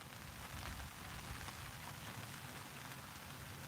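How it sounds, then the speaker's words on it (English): Rain patters steadily on a canopy beside Ford Lake in Michigan, a soft, even, continuous hiss of drops with no voices. "it is raining. You might hear it off the canopy"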